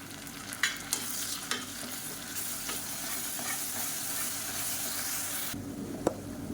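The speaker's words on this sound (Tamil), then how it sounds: "இஞ்சி பூண்டு பேஸ்ட்டெல்லாம் நல்லா வதங்கி நல்ல ஒரு ஃப்ளேவர் வருது" A ground spice paste of ginger, garlic, shallots, cinnamon, clove and cardamom fries with onions for Chettinad crab masala, with a steady close sizzle, a few sharp stirring taps, then a sudden quieter stretch.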